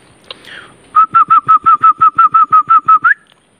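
A person whistles a rapid, evenly spaced run of about a dozen bright, identical notes imitating a bird call as a signal to a companion in the forest, close and loud, with no talking.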